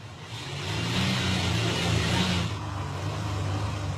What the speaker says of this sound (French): Comme vous l'entendez, la voiture fonctionne très bien.